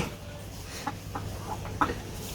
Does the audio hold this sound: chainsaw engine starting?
no